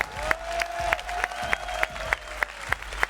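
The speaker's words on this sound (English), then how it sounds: "on les applaudit une dernière fois bien fort" An audience at an esports event, a Nation Wars semifinal between Finland and South Korea, applauds steadily with a few sharp individual claps rising above it. The crowd sounds moderately distant, and a faint tone hums underneath.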